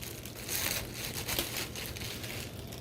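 Plastic packaging around a Sony car stereo microphone crinkles and rustles as it is unwrapped, a close, steady crackle that runs for a few seconds with no voice.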